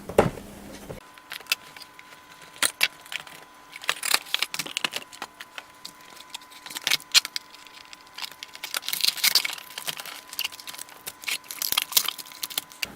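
Plastic and cardboard packaging around a Ms. Pac-Man mini-arcade toy by Basic Fun/Bridge Direct being opened, with close, irregular crackles, snaps and rustles throughout and no talking.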